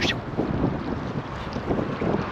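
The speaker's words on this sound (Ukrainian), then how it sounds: "Нема, друзі, більше сил, боротися з вітром." Loud, steady wind buffeting the microphone on a riverside embankment in Kyiv, a broad rumbling roar with gusty swells and no voices.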